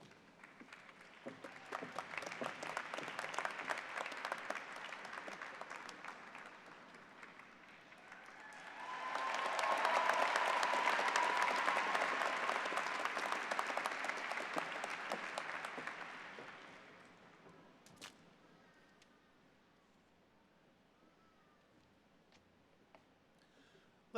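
A commencement audience applauds in two long waves, the second louder and denser, dense clapping across a large crowd before it thins into scattered claps and quiet.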